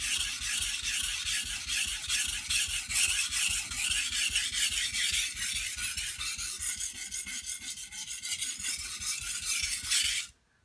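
A knife is sharpened on a coarse stone, its blade raising a burr on both sides as it rasps back and forth in fast, even strokes, close and loud, before stopping abruptly.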